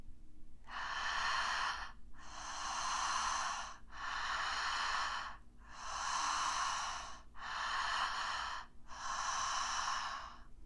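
Slow, deep breaths during a guided breathing exercise, six long airy inhale and exhale phases in a steady rhythm, close and fairly loud with short pauses between, no talking over them.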